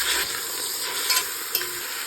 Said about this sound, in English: we're just gonna saute and let these sweat